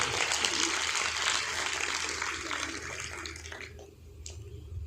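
Applause from an audience at a Marathi lecture on Shivaji, a dense continuous wash of clapping that holds steady for most of the clip and then thins and eases slightly near the end.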